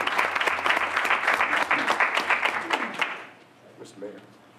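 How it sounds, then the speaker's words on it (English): An audience at a city council meeting gives a burst of loud, dense applause that lasts about three seconds and then fades out, followed by faint speech. "could we have a round of applause for us?"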